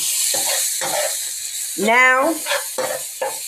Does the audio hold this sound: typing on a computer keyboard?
no